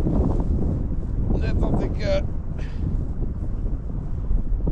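Strong gusty wind buffeting the microphone in the Iceland highlands on a fatbike bikepacking trip, a constant loud low rumble with someone speaking briefly over it.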